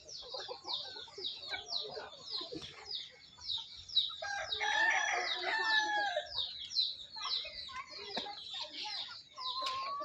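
Free-range country chickens at a village poultry farm, with steady clucking throughout and rooster crowing mixed in, close and fairly loud against other bird calls.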